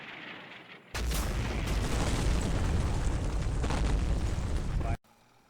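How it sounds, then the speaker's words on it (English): Artillery in the Combat Mission Fortress Italy game lands as a sustained, loud roaring barrage of explosions lasting about four seconds, then cuts off abruptly. "artillery takes out the first Marder 2 that was spotted"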